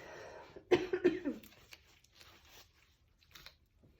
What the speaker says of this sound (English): So I apologize for my coughs and sniffles.